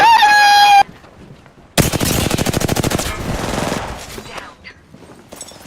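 Apex Legends gunfire, a loud rapid burst of automatic shots after a short electronic tone and a pause, trailing into scattered quieter reports.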